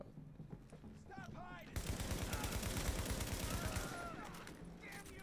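Sustained automatic gunfire in The Division video game hammers out a fast, loud rhythmic burst after a quieter start, with brief voiced exclamations heard around the shooting.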